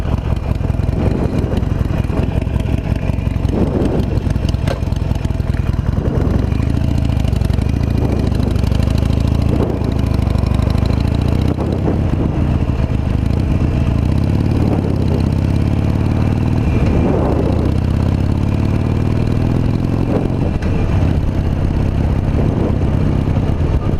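Harley-Davidson Nightster motorcycle engine running steadily while riding, a loud continuous low rumble with shifting revs and some mechanical clatter throughout, no talking.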